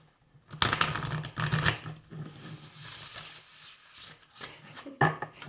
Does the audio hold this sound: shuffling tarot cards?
yes